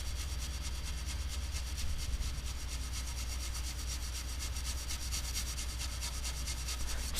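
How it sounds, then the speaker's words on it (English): Base metal is cleaned before an aluminum rivet repair, giving a steady, rapid rhythmic rubbing or brushing scratch that continues evenly throughout at a moderate level. "So the first step is to clean the base metal."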